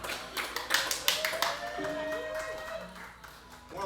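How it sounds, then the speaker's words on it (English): Audience clapping along at a live music performance, with distinct rhythmic hand claps in the first half, then fading under sustained tones and a voice singing, a few claps returning at the end. "ready to clap their hands?"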